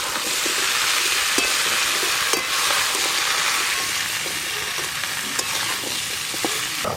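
Pumpkin, potato and Malabar spinach stems fry in hilsa fish oil tempered with five-spice and dried chili, a loud, continuous hiss of sizzling with faint clicks of stirring.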